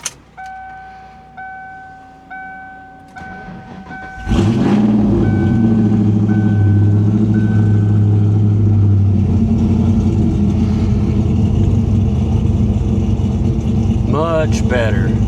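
A Ford Mustang GT, just fitted with a replacement alternator, chimes with repeated dash warning tones, then cranks and fires into a loud, steady idle that runs close and unbroken to the end.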